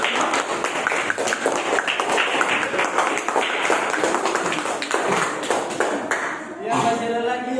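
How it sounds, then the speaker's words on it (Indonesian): A classroom group claps hands during a lesson on the human digestive system, a dense run of sharp, fairly close claps lasting several seconds, then a voice speaking over the fading clapping near the end. "Ya, tepuk tangan."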